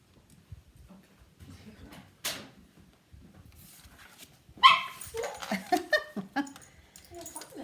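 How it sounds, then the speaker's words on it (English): A small dog barks in a quiet indoor room, sharp yips and a brief whimper scattered among light shuffling, with the loudest burst of barks arriving in the second half. "We have a little bossy dog who doesn't want to leave the room, so she's being a drama queen."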